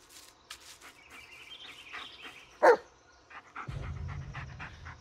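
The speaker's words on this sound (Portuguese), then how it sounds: "Preste atenção nos latidos e na linguagem corporal dele." In the horror video game Blair Witch, a companion dog barks once sharply and pants amid soft rustling and faint ambient game sounds, followed by a low rumbling swell.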